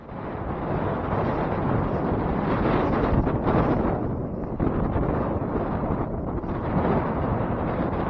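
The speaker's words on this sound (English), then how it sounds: "Didn't realize that it was this windy out here." Strong wind roars steadily across the microphone on a lake during a kayak fishing tournament, a dense continuous buffeting rush with small surges and no voices.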